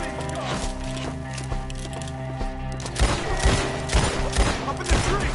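Gunfire in Red Dead Redemption 2 during a shootout: after a tense stretch with music, sharp shots crack out repeatedly and irregularly over the background, with some voices mixed in.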